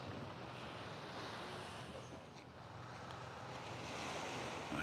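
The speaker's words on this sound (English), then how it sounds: "Oh, you can hear the waves lapping." Surf and waves lapping at Playa La Pinta, Puerto Colón, a steady washing roar with light wind across the microphone and no voices.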